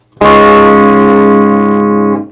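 Electric guitar played clean through the effects loop of a Highwind amp: one loud sustained chord struck once, ringing with a steady tone for about two seconds before being cut off, with no voice.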